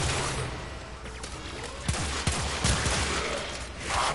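Rapid bursts of gunfire from Grineer marines in a sci-fi shooter video game, several sharp cracks clustered in the middle of the clip over a constant busy background of game noise.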